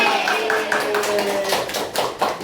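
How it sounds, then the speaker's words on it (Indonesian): Students in a tajwid lesson clap for a classmate, a loud burst of quick hand claps close by with a voice speaking over them. "Tepuk tangan dulu dong buat Nia."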